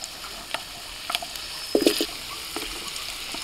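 Potatoes drop into hot oil with dried chillies and panch phoron and sizzle faintly, with a few brief louder crackles and spatters over a low, steady hiss.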